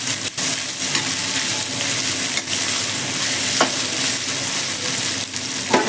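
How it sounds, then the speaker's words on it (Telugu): Onions frying in a pan for chicken fry masala, a steady loud sizzle with occasional scraping stirs of a spoon, close and continuous with no talk. "ఫ్రై అవుతాయి ఆనియన్స్. ఆనియన్ మంచిగా వేగితే సరిపోతాయి."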